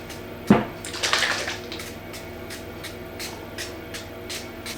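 A few short, hissy spritzes of an oil spray bottle onto taco shells, one sharp burst followed by a couple of weaker puffs, close by in a quiet room.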